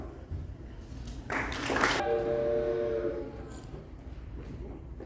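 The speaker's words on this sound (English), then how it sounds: "Is this the train for Charleston?" A stage sound effect of a train arriving during a theatre production of Anne of Green Gables: a burst of steam hiss, then a sustained, moderately loud whistle tone, all over a steady background rumble.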